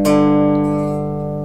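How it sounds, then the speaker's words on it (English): A two-string power chord strummed once on an electric guitar rings out and sustains steadily, close and clear with no voices. "the first chord we're gonna learn is just your regular 2-string power chord."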